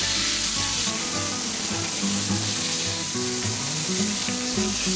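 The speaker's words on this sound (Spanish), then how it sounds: "Sellaré la carne durante 2 minutos por lado." Beef chuck steak sears on a hot cast iron griddle in smoking oil, giving a loud, continuous crackling sizzle with no voices.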